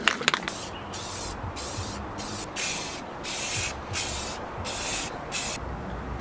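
Spray paint tint is sprayed onto a masked car tail light in repeated short hissing bursts of about half a second, close and rhythmic, separated by brief pauses.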